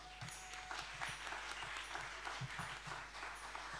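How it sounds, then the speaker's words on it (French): A crowd at a talent show claps steadily, a fairly distant, even applause that carries on throughout with a few louder individual hand claps standing out. "vant de passer la parole à Madame Sermenson, je vais vous demander de vous applaudir très très fort."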